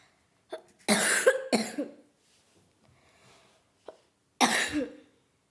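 Two bursts of harsh coughing, a pair of close coughs and then a single later one, separated by near silence and soft breaths.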